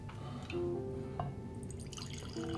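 Four Roses Limited Edition Small Batch bourbon poured into a glass, a soft trickle with faint liquid drips and clinks against quiet room noise, no speech.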